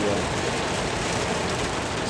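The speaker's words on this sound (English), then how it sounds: "So it's raining wild crazy." Steady heavy rain falls outdoors as a dense, continuous wash of hiss, loud and unbroken throughout.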